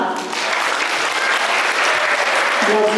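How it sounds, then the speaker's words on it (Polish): Loud, dense applause from a large crowd, continuous clapping that holds steady throughout. "Brawa dla szkoły numer 2"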